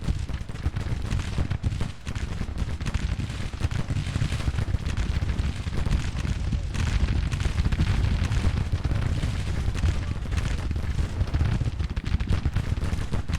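Dense, continuous battle din of Civil War troops firing in Grand Tactician: The Civil War, a steady rumble of massed musketry and booming cannon with no breaks, loud throughout.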